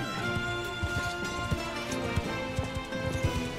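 Horse hooves in Mount and Blade: Bannerlord beat in a steady galloping rhythm, close and moderately loud, with a busy battle din of clashing and shouts running underneath.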